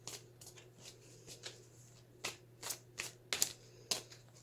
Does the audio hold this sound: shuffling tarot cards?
yes